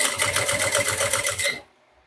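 A sewing machine stitches a folded fabric strap for a small bucket bag with a fast, steady mechanical chatter. It is close and loud, then stops abruptly into near silence.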